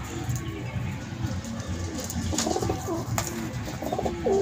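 Tournament racing pigeons, three males and four females, coo in repeated soft rolling calls close by, several birds overlapping with a faint chirp or two against light background noise.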